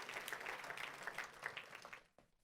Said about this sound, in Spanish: Denle un fuerte aplauso al Rey de la Gloria conmigo en este momento